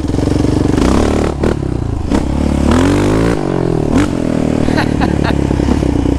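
A Yamaha Raptor 700 ATV engine revs hard and steadily up close, pitch rising and falling through repeated throttle blips with gravelly clatter, loud and continuous throughout.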